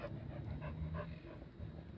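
A dog pants quietly with faint whimpers, soft rhythmic breaths close by over low background noise, brief and fairly faint.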